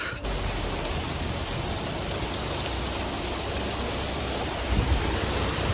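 Heavy rain pours down in a rainstorm during a grocery run in La Herradura, a dense continuous hiss of drops heard from under a small roof, close and steady throughout with no talk.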